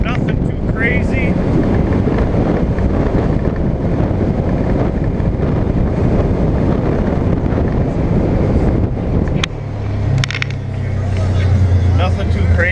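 A 2020 Polaris General XP 1000 side-by-side fitted with a new belt and Gilomen clutch drives steadily, its broad engine and wind roar holding near and loud, with a lower drone shifting as it eases off toward the end.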